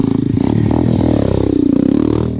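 A trail motorcycle engine runs loud and close with a rough, pulsing exhaust note that rises and falls as the throttle is worked, with some clattering mixed in.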